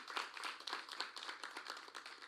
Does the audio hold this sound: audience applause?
yes